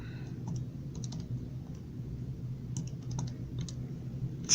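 Faint, close keyboard typing: scattered light clicks in short bursts over a low steady hum as a number is entered on a computer.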